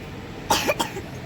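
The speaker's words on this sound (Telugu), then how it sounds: "దగ్గు కూడా వచ్చింది" A single close cough with a short follow-up burst, abrupt and fairly loud against a quiet background.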